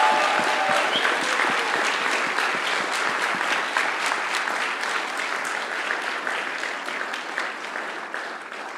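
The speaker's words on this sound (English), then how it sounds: "Let's have a huge round of applause for our wonderful team." Steady, loud applause from a large crowd at a TEDx conference, sustained clapping that continues throughout and fades slightly toward the end.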